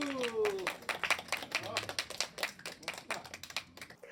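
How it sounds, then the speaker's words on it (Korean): People clap for a large painting by an artist with a developmental disability, a scattered round of individual claps of uneven rhythm, moderately faint, with a voice heard at the start. "박수."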